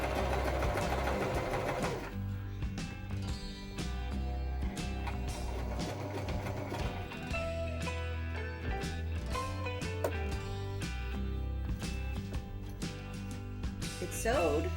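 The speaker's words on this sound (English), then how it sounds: "No, I'm still sewing, so that's good." Sewing machine stitches continuously up close as old sweatpants are turned into a skirt, a steady rapid mechanical whir with brief changes in pace, alone without talk.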